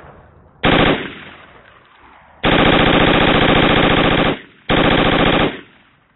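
Machine-gun fire in Project Reality v0.7 on the Fools Road map, three loud sustained automatic bursts, the longest about two seconds, separated by brief gaps with faint background noise and no speech.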